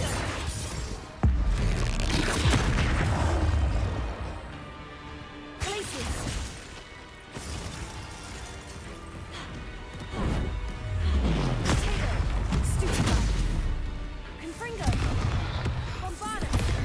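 Repeated explosive blasts from the Confringo fire spell in Hogwarts Legacy combat, several loud booming impacts spread across the stretch with a voice talking between them.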